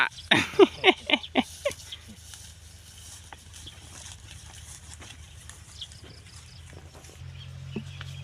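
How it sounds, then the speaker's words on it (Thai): A herd of goats out by grassy fields lets out a quick run of loud, close bleats at the start. Quieter ambient noise follows, with a low steady hum and occasional faint distant calls. "ตอนนี้เราได้มาเจอฝูงแพะป่า"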